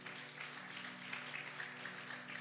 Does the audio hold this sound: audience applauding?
yes